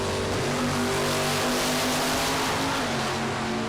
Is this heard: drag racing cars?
yes